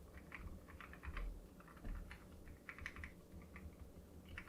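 Quiet, steady clicking and clacking of Dark Project ALU87A mechanical keyboard keys being pressed in quick irregular bursts, soft and close, with no voices.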